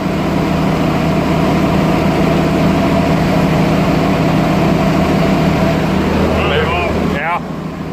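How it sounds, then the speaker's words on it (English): Engine on hydraulic equipment idling far too high, a loud steady drone with a constant low hum that drops away near the end as it is shut down. "Our idle is way too high"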